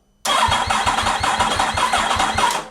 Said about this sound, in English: rotate the engine like that. And by rotating the engine like that, we will make oil pressure inside the engine.